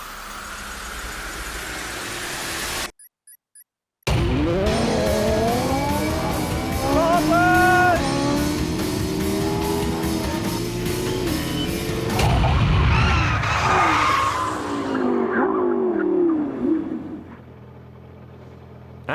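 An Ariel Atom V8 races supercars from 0 to 100 and back to 0, heard as a close, loud engine roar with rising and falling gear-change sweeps after a short gap, ending in a quieter fade; a voice talks over parts of it.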